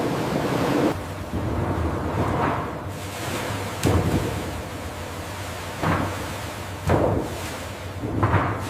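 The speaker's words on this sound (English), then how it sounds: "Sanitized water is used to wash and move the sugar beet deep into the plant." Sanitized water rushing through a hydrotransport flume that washes and carries sugar beets into a refinery, a loud continuous roar of churning water with repeated heavier surges, and no voices.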